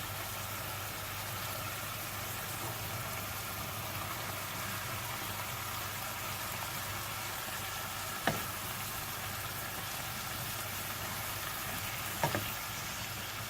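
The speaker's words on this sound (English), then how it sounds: "we're going to cook the onions, mushrooms and chicken on a high heat just so the juices evaporate" Onions, mushrooms and chicken frying over a high gas flame in a pan, a steady, faint broadband sizzle with two brief clinks of a utensil near the end, no talking.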